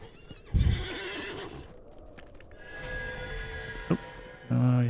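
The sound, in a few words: horse steed neighing and hooves in video game LOTRO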